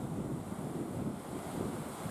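Rough sea off the south coast of Papua, waves over three metres high, rendered as a continuous low roar of surf mixed with heavy wind buffeting the microphone, steady and loud with no voices.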